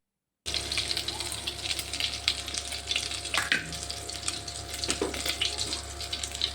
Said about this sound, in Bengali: ভেজে তুলে নিয়েছি আর এই তেলের মধ্যেই আমি জিরে ফোড়ন